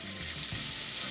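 Onion sizzles in leftover meatball olive oil holding bits of meat and seasoning, making a dense, close, continuous frying hiss with faint stirring underneath.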